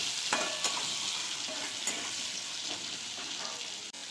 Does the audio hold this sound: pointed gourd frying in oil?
yes